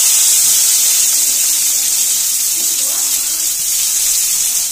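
Chopped onions hitting hot oil in a home kitchen while cooking chicken biryani, a loud steady sizzle that holds throughout the clip.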